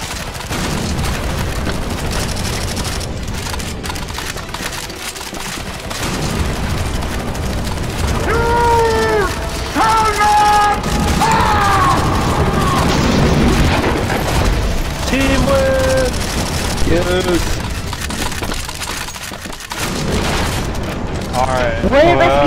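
Sustained gunfire and explosive booms from a CS:GO Zombies escape match, rolling on loudly for the whole stretch while players talk over the din.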